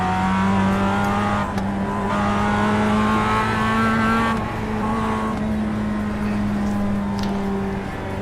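A V8 Supercar engine roars continuously through an iRacing race, a steady high-revving drone with shifting pitch and brief dips as the car brakes and accelerates, loud and close with no talk over it.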